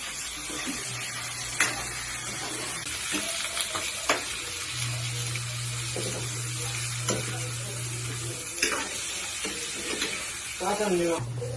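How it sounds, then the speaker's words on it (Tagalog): Steady sizzling of chicken frying in a pan, with scraping stirs and occasional clinks of a utensil throughout. "gigisahin lang po natin ito para hindi dumikit"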